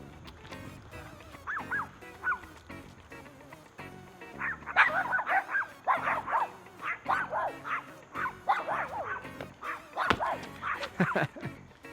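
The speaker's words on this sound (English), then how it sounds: "My neighbor's dogs, they're so cute, but they constantly chirp at me while I'm doing my videos" Small neighbourhood dogs yap and bark in repeated short bursts at moderate distance, with a few whimpering yips mixed in over quiet room tone.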